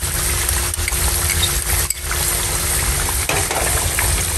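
Ginger paste sizzling in a hot pan while cooking a lamb dish, a steady, loud frying hiss running throughout with a few brief stirring dips.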